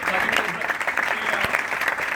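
Audience clapping continuously at a motivational business speech for Amway India, a dense, steady wash of applause from a large crowd filling the whole stretch.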